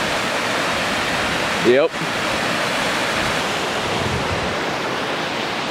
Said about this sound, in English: there's an awesome, awesome waterfall